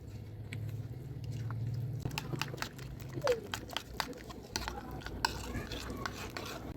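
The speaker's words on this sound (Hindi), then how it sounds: "अंडे ऐड कर देंगे, मिक्स करेंगे।" Eggs are mixed into kadhai gosht masala, fenugreek and other spices in a kadhai: a low frying rumble, then a run of sharp spoon clicks and scrapes against the pan.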